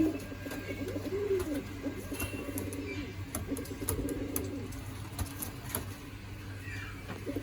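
A male pigeon coos in soft, repeated low rolling calls, close by, with faint background noise and no talk.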